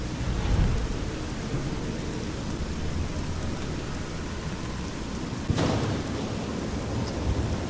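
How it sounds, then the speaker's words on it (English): Steady rain pours down with a low rumble of thunder and one sharper crack partway through, a dense, continuous wash from a weather mod in the game Fallout: New Vegas, with no voices. "It's raining in the house."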